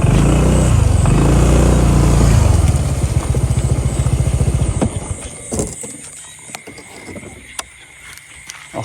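A Honda motorcycle engine idles loudly and near with a steady, even chug before it is cut off, leaving quieter night sounds and scattered clicks.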